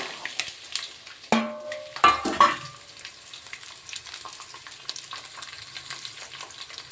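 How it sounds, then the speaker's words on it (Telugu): Oil sizzles steadily in a pan as flat bean seeds fry with tempering seeds, broken by a few sharp clanks of stirring near the start. "చిక్కుడుకాయ గింజల్ని ఫస్ట్ అయితే ఫ్రై చేసుకోవాలి"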